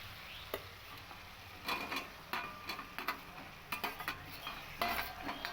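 Fried potatoes and boiled eggs are tipped into a pan of well-sautéed masala for an egg-potato curry, with scattered clinks and scrapes of a utensil against the pan and a faint sizzle underneath. No one speaks.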